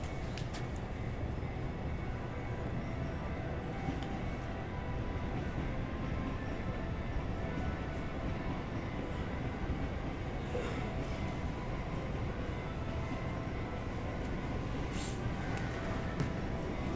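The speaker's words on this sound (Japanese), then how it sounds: "17番線から団体専用列車の発車です。" Steady, dense rumble of a chartered JR East E655 series train departing Ueno Station platform 17, continuous and even throughout with a few faint clanks.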